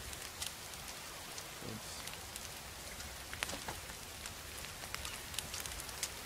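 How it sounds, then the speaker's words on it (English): Rain falls steadily in the video game The Forest, a constant soft hiss of drops with scattered sharper patters on nearby surfaces, even and moderately quiet throughout. "because it's raining right now"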